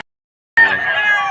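A rooster crows loudly and close by at a chicken market in Padre Garcia, Batangas. It is one sudden, harsh crow that starts after a moment of silence.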